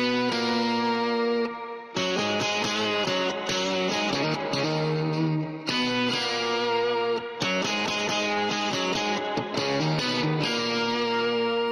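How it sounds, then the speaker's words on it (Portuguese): An electric guitar played in its lower register through a Quad Cortex with boost engaged, sustained distorted notes and chords with effects and reverb, loud and continuous with brief gaps between phrases. "eu só vou aqui dar um pouco mais de boost nela, até ela ficar realmente bem aparente. Eu vou até tocar aqui regiões mais graves da guitarra"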